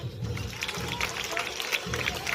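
A class of children on National Sports Day claps for Indian footballer Sunil Chhetri. The dense, steady patter of hands runs throughout under the buzz of young voices and room chatter.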